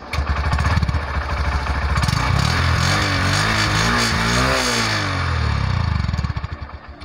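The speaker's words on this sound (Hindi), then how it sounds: "क्विकली एग्जॉस्ट नोट भी चेक कर लेते हैं।" A 2022 Honda SP125 motorcycle's exhaust note, close and loud, idling with rhythmic pulses then revving up and falling back over several seconds before settling to a steady idle.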